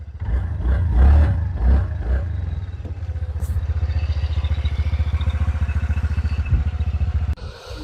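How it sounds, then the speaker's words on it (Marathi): A TVS Ntorq 125 scooter from 2021-22 with a 125 cc engine fires up on the self-starter, then settles into a steady, close, rhythmic idle that runs for several seconds before a brief clatter near the end. "सेल्फ स्टार्ट गाडी।"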